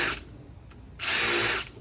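A power drill with a 1/8 inch self-centering bit bores hinge holes in a door, two short high whirring bursts, the second longer and louder, with quiet between them.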